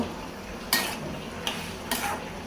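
A pan of kajoli fish is set down to cook on a home kitchen stove, giving three brief, sharp clanks spaced about a second apart against a quiet background hum.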